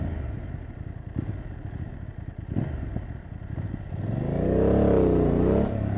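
BMW F 900 GS inline-two motorcycle engine idling with a low, rough rumble, then revving up loudly near the end with a rising and falling tone and sharp crackles and pops, close by.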